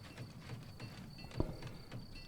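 Horses in the strategy video game Humankind give soft rhythmic hoof clip-clops at a steady walking pace, quiet and muffled with one sharper knock midway.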